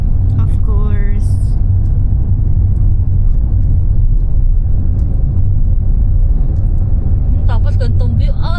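Car engine rumbling steadily from inside the cabin while driving on a road near a view deck in Tarlac, with people talking over the constant low drone.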